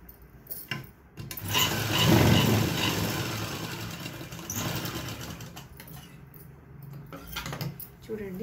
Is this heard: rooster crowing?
no